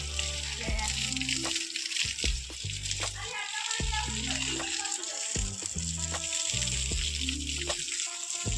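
Water is sprayed at a chikoo orchard farm near a tractor, giving a steady airy hiss under continuous close talk from several people.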